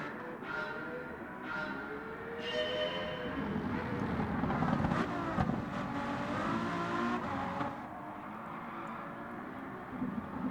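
A V12 car engine revs steadily and loudly close by, its dense rumble rising and falling in pitch over about ten seconds with no talk.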